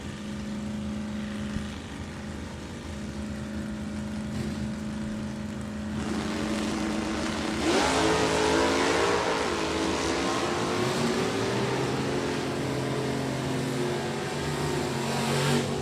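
Drag race cars, a 2002 Cavalier and an 88 Mustang automatic, idle and rev at a Super Stock drag strip: a steady engine drone swells into louder, rising revs midway, heard from a moderate distance without commentary.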